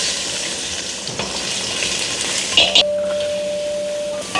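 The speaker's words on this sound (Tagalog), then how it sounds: "Ang ganda ho ng pagkakaprito ng ating mga dalagang bukid" Dalagang bukid fish frying in a pan, a dense steady sizzle close by with a couple of sharp utensil clinks and a brief tone near the end, no talk.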